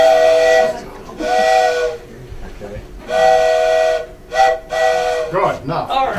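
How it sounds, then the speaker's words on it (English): Steam-style train whistle blown in several long and short blasts during a live library concert song, loud and close, with a brief voice near the end. "Oh, where's your whistle?"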